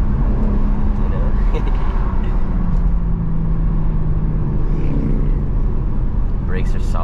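BMW M3 with carbon ceramic brakes driving in Las Vegas, its engine a loud, continuous low rumble held steadily in the cabin, with occasional voices over it.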